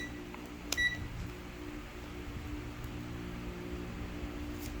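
A short electronic beep from a multimeter continuity buzzer sounds once near the start, during repair of an ATX computer power supply, then a steady low hum continues with a faint click later.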